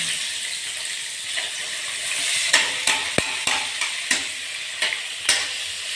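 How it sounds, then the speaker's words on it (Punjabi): Onions frying in hot oil: a steady, bright sizzle runs throughout, punctuated by several sharp clicks and taps of a utensil against the pan, with no voices. "ਤੇਲ ਹੋ ਗਿਆ ਗਰਮ ਤੇ ਹੁਣ ਪਾਉਗਾ ਵਿੱਚ ਪਿਆਜ਼"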